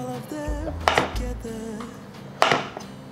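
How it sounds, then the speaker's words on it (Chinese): A knife slices a king oyster mushroom diagonally on a cutting board, giving two crisp, close cuts about a second and a half apart against a soft tonal background. "准备一条杏鲍菇，杏鲍菇给它斜切片状"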